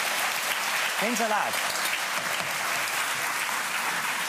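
Studio audience clapping for a cameraman on a cooking show, a dense, steady round of applause while a voice speaks briefly over it.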